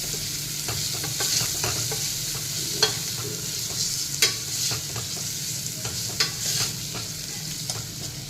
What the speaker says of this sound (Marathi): कांदा साधारण रंग बदलेपर्यंत आपण हा परतून घेऊयात